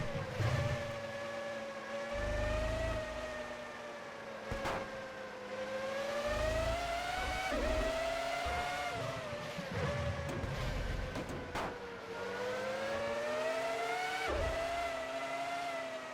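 Formula One race cars in a 2004-era racing video game on the final lap, a continuous high engine whine that rises and falls through gear shifts, loud and sustained with brief skid-like bursts.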